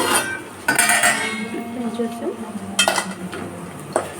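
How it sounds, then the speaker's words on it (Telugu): A metal lid clatters onto a cooking pot of brinjal potato curry, giving a few sharp metallic clanks and a ringing clink, close and fairly loud, with a faint simmer between them and no talk. "మూత అనేది పెట్టేసి చూద్దాం"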